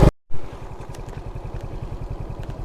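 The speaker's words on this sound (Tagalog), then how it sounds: "dito ko na lang napiling mag sound check itong ating Suzuki Smash." A Suzuki Smash 115 motorcycle, a 2025 model, idles on a quiet diversion road after a brief dropout, its single-cylinder engine putting out a steady, loud, even putter.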